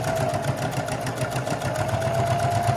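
A sewing machine runs steadily while stitching close to the folded edge of a mini dress's fabric, giving a continuous close whirring hum with a fine rhythmic needle patter and no talking.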